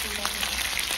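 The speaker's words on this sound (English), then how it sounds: "fry and toast nicely, crispy, golden brown color" Stingray meat frying in hot oil, a dense steady sizzle and crackle filling the whole short stretch, close and even, with no talking.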